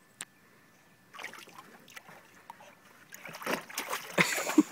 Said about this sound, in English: You put it in the water and now you can't get it.